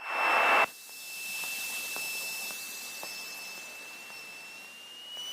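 A brief loud roar gives way to a steady engine drone with a high whine and hiss, heard from the cockpit of a light aircraft accelerating on takeoff roll toward 60 knots.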